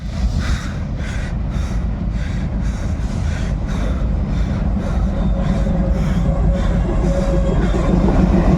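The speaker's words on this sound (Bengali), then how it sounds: "গাড়ি ব্রিজের ভিতর থেকে দ্রুত এলো" A train crosses the Nashipur rail bridge during a speed test, giving a steady, loud rumble with rhythmic clattering wheel beats throughout and no voices.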